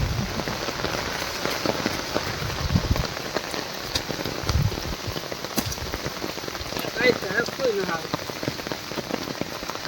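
Heavy rain pours down steadily in a dense, loud hiss of drops hitting surfaces, with brief heavier gusts of splatter throughout and a faint voice now and then.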